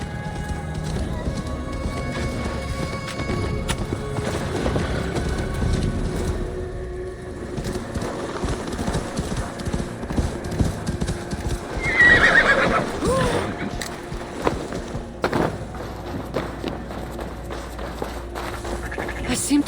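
Horse hooves clop along in Assassin's Creed Valhalla while a horse neighs partway through, mixed with people talking and background ambience.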